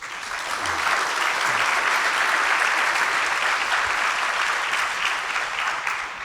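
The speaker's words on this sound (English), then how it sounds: "we should applaud it" An audience at the WAVES Festival applauds with steady, dense clapping that holds evenly throughout, a full wash of many hands at moderate loudness.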